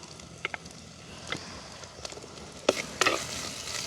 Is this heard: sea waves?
no